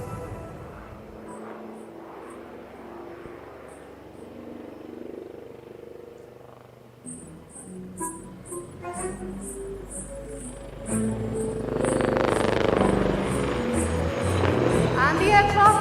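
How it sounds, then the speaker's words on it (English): A military attack helicopter banks through a steep turn during an Indian Air Force foundation day display in Tambaram. Its rotor and engine roar swells louder and fuller in the second half, with voices talking over it throughout. "Keep looking as the helicopter turns to carry out a steep turn again."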